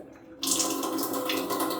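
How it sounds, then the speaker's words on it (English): Water gushes out as an Atomberg Intellon water purifier tank is emptied, starting abruptly and then flowing in a loud, steady, close rush, with nobody talking. "So we can turn off the water purifier and empty the tank."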